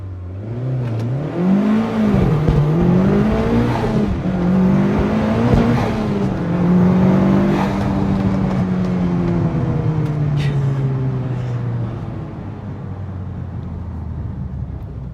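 A modified Mitsubishi Evo 8 FQ300 with its 4G63 engine accelerates hard on a timed run, the engine note climbing and dropping through several gear changes, loud and close throughout.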